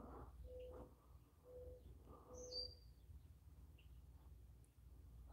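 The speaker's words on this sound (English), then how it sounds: "Oh, it was a bird." A bird calls from outdoors with a few short tonal chirps and a brief higher whistle, faint over steady low background noise, with no one speaking.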